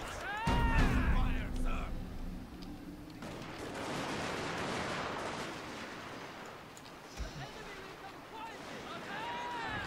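Musket volleys and scattered gunfire crackle through a battle at Osaka Castle in a video game, a heavy burst near the start giving way to a sustained rumbling fusillade, with a voice talking over part of it.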